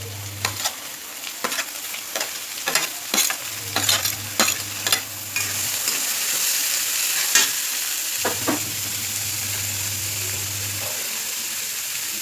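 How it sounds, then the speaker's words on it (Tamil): Onions, green chillies and curry leaves sautéing and being stirred in a pan, with repeated scraping strokes over a steady sizzle and no talking. "முதல் மிளகாயும் வெங்காயத்தையும் போட்டு கருவேப்பிலையும் போட்டு நல்லா வதக்கணும்."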